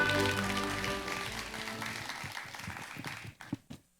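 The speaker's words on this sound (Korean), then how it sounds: "여러분 뜨거운 박수로 맞아주십시오" Applause welcoming a speaker at the 2024 volunteer best-practice contest in Gwangju, a broad wash of many hands clapping under a music fanfare that fades, leaving a few individual claps at the end.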